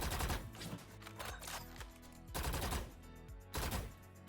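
Gunfire in the Valorant shooter game: short rapid bursts of automatic fire, about four clusters spaced by brief pauses, crisp and close with no voices over them.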